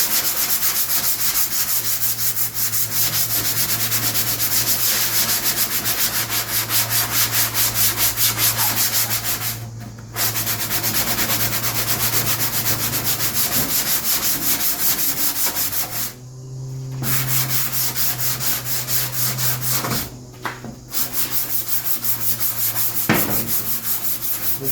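Steady hand sanding rubs back painted fake patina flames on a rat rod, a continuous close scraping with a few brief pauses.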